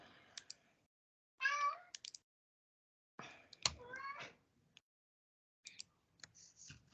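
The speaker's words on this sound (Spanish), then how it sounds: "Ese es mi gato." A pet cat meows several times in a quiet room, short close cries separated by silent gaps, mixed with a few faint clicks and taps.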